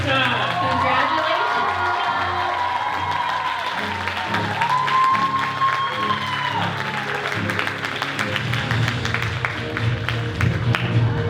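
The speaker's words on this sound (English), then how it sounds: "Another big round of applause for Miss 2022 Miss Vietnam Wichita." Pageant audience applauding and cheering for the newly crowned Miss Vietnam Wichita 2022, sustained crowd clapping under an announcer's voice and music, with scattered whoops.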